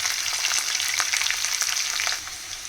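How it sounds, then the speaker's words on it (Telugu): Green chillies lightly frying in a pan for a chickpea biryani, giving a steady, close hiss and crackle of hot oil with tiny pops throughout, easing off slightly near the end. "గ్రీన్ చిల్లీ యాడ్ చేసి నేను కొంచెం లైట్గా ఫ్రై చేస్తాను"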